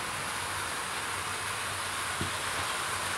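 Hornby model railway locomotives running together on a layout, producing a steady, even hiss-like rolling noise with a faint low rumble and a brief click near the end, with no speech.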